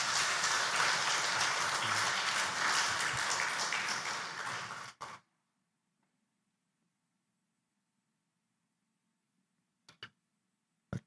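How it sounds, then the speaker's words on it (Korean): A church congregation at a Sunday afternoon service applauds to welcome the pastor, dense steady clapping for about five seconds that stops abruptly, followed by near silence with a couple of faint clicks. "우리 목사님 나오실 때 큰 박수로 환영하겠습니다"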